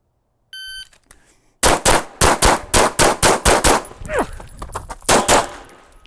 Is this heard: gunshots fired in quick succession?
yes